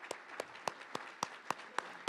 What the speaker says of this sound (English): please join me in giving a round of applause and a thank you to all of these